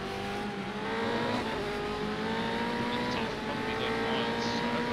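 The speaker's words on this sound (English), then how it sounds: "You can hear a car going slowly." An F3 open-wheel race car in the Automobilista racing game at Interlagos drones past at low speed, its engine a steady tonal hum that holds for several seconds.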